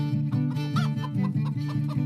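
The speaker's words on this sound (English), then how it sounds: "It all starts early in the morning when the hen wakes up and lays her egg." A hen on an egg farm clucks repeatedly at close range, short rhythmic clucks rising now and then into a drawn-out call, loud and without voices.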